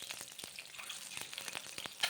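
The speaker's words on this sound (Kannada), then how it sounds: "ಒಂದು ಪಾತ್ರೆಗೆ ಸ್ವಲ್ಪ ಎಣ್ಣೆನ ಹಾಕಿ ಕಾಯೋದಕ್ಕಿಟ್ಟು ಆಮೇಲೆ ಬಿಡಿಸಿಟ್ಕೊಂಡಿರೋ ಮೊಟ್ಟೆಗಳನ್ನ ಹಾಕ್ತಾಯಿದ್ದೀನಿ" Peeled boiled eggs frying in hot oil in a pan for egg masala gravy, giving a steady crackling sizzle with sharp pops scattered throughout, close and moderately quiet.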